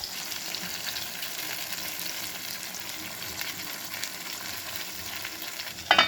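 Tomato and garlic fry in a pan for gongura leaf chutney, giving a continuous close sizzle with small crackles and a brief louder stir or scrape near the end.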